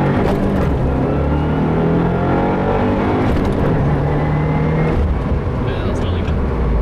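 2015 Subaru WRX with a MAP Stage 1 tune and new clutch pulling hard in first gear, a loud, continuous engine roar rising in pitch and then dropping off near the end, with voices faintly over it.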